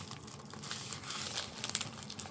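Crinkly plastic snack wrapper from Spain being torn open close by, rustling and crackling in a steady scratchy crumple running throughout without any voices.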